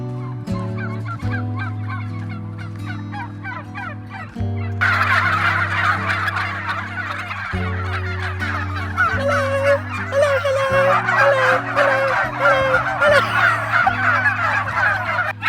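Turkeys near a narrowboat gobble repeatedly and loudly in rapid warbling bursts, with several birds overlapping close by while a steady low engine-like hum runs underneath.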